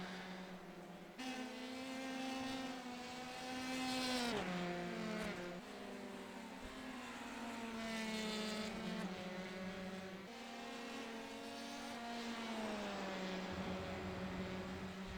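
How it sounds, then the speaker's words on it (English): Formula 3 race cars in a sim racing game at Spa, engines droning loud and steady at high revs, with pitch rising through the gears and dipping as drivers lift for corners, several cars audible together with no talk. "Some great performance from these cars. I'm just seeing how well planted they are around all these corners."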